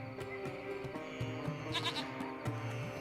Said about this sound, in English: It's a small goat. It appears to be hiding underneath the hut.